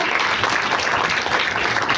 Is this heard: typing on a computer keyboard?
no